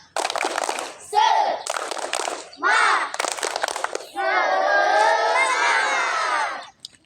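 A class of fifth-grade children performs a spirit clap chant, sharp bursts of rhythmic clapping alternating with loud group shouting, ending in a long sustained cheer, close and energetic.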